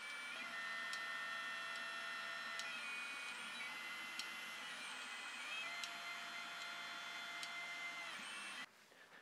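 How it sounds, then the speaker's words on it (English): A Snapmaker V1 3D printer hums steadily while printing, with whirring motors whose pitch glides up and down, plus occasional faint ticks, ending with a brief clunk. "And now we've started printing."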